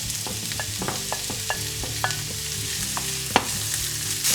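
Onions and garlic fry in hot oil while being stirred, giving a close, continuous sizzle broken by repeated spoon scrapes and clinks against the pan, with no talking.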